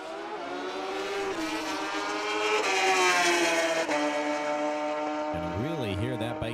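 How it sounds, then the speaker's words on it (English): A drag racing motorcycle on a solo pass at the ManCup World Finals, its engine note climbing steadily through the gears in a loud rising whine, with a voice cutting in near the end. "Hear that bike get to work"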